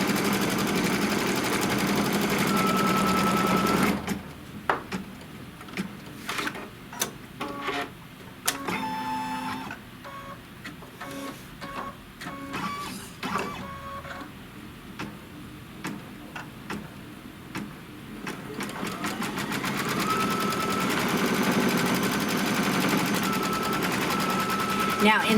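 Embroidery machine stitching a placement line for two small hearts on a mug rug, a fast run of sharp mechanical ticks and needle clatter with pauses, framed by steadier machine hum before and after.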